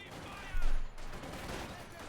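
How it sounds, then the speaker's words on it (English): Rapid semi-automatic SVT-40 rifle fire in the Company of Heroes 2 battle game, a dense crackle of shots with a heavier burst near the middle, layered with other battlefield noise. "firing away with SVT-40s"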